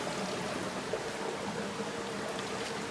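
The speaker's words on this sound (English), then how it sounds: "There's the waterfall up there." Steady broadband rush of a waterfall on a muddy Hawaiian hiking trail, a continuous even roar of falling water heard from some distance with no voices over it.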